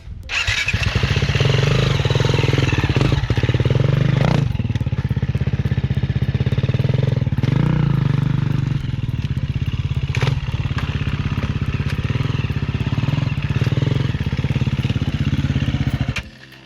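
A motorcycle engine roars loud and steady under acceleration through a jump on the throttle, with brief clattering thumps near the landing and the engine running nearly the whole time.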